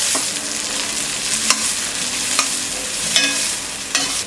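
Mixed vegetables with capsicum and green peas frying on high flame on a tawa for Mumbai-style pulao: a loud, dense, continuous sizzle with a few sharp stirring scrapes, close up.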